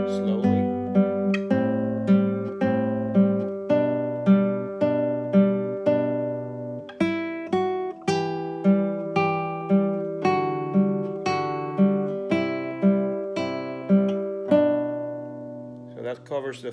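A classical guitar plays the opening four measures of Carulli's Etude 5, Op. 241, slowly, with a steady arpeggiated pattern of plucked notes over bass notes, clear and close, ending on a held chord.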